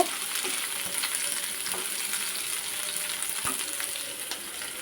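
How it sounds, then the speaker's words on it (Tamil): Grated coconut is stirred into onions frying in a pan while making a turkey berry chutney, giving a steady close sizzle with soft scraping stirs throughout and no talking. "தேங்காய் சேர்த்து ஒரு கிண்டு கிண்டி விட்டுட்டு"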